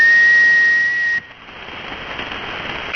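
A steady whistled tone over ham radio, pure and loud, cutting off abruptly after about a second to leave hissing static with a faint returning tone at the end.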